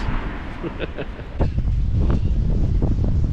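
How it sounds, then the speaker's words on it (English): Strong wind in the snowy alpine region of New South Wales, Australia buffets the microphone in a continuous low roar, gusting louder partway through, with faint voices underneath. "It's so windy! It's so very windy."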